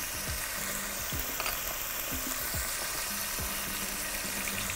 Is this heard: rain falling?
no